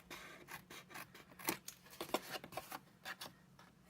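Scissors snipping through cardstock for a Stampin' Up! box, a quick run of crisp, close cuts and slicing rasps in an uneven rhythm, with nothing else heard.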